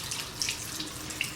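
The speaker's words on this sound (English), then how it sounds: "I'm going to start off by running a little bit of water" Tap water runs into a sink while a beauty blender is scrubbed, a soft steady splashing stream with small drips and squelches, faint and close.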